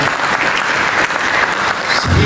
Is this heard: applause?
yes